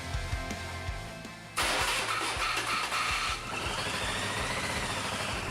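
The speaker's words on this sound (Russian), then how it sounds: "Установил новый карбюратор и попробовал запустить двигатель." An Oka engine swapped into a homemade buggy, fitted with a new carburetor, cranks with rhythmic starter turns, then fires and settles into a steady, close, clattering idle.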